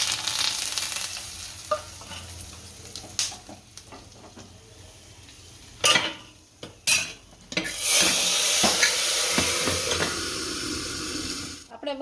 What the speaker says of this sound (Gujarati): આપણે વઘાર કરી લીધો છે